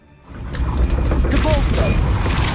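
A spell is cast in the Hogwarts Legacy video game, a rising magical whoosh with rumbling, mechanical effects building to a sustained, loud crackling burst over a steady game background.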